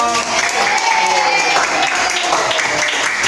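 Classroom applause from students, a short burst of dense clapping that fills the whole moment, loud and close.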